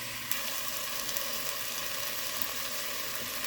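Beef browning in a pan gives a steady, dense sizzle, loud and constant throughout with a few faint crackles and no talk.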